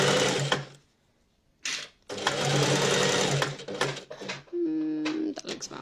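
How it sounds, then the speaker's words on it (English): A sewing machine stitches a children's coat in short bursts of fast whirring, stopping and starting with brief pauses between runs, heard close up. "So we're just going to sew down to it."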